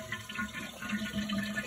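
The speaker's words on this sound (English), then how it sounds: "Flush tank until tank is completely empty." A household toilet tank flushes, water rushing and gurgling steadily at close range for the whole short stretch.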